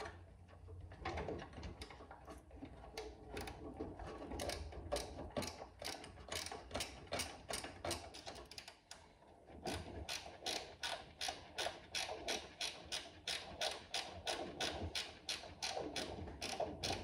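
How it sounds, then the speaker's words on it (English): A ratcheting wrench turns bolts on a disc brake conversion for a 1962 unibody, giving a close, continuous run of rapid clicking strokes, briefly pausing midway before resuming in a steady rhythm. "Ratcheting wrenches is one of the best inventions ever made."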